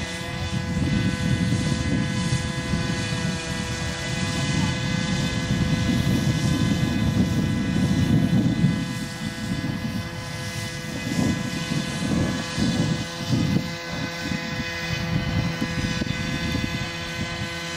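A radio-controlled 79-inch B-17 bomber scale model flies overhead, its multiple propeller engines giving a continuous droning buzz that swells and fades slightly as it passes, with outdoor wind noise around it.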